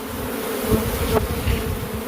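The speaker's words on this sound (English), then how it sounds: "there's a shit ton of bees under there." Swarm of bees buzzing around an underground nest in cut grass, a steady dense drone close by with a few louder passes as individual insects fly near.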